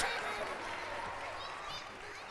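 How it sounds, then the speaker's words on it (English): An audience claps for a child volunteer at a magic show benefit in a concert hall, a steady, fairly faint wash of applause that holds for a couple of seconds and tapers slightly. "Clap your hands for Des, please."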